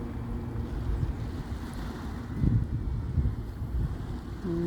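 Cool sea breeze blowing along a summer seaside shore, a steady low rumble of wind buffeting the microphone with faint surf and water underneath, swelling briefly midway.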